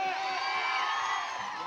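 A live audience at a Kannada comedy stage show applauds and cheers loudly and steadily, a dense wash of clapping with whoops rising throughout.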